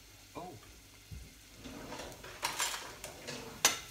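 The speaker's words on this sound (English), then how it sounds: "Let's get the onions in. Garlic, onions in. Spoon to stir." Onions and garlic frying in a pan while a spoon stirs them, with faint sizzling, scraping clinks and short knocks against the pan, quiet and intermittent.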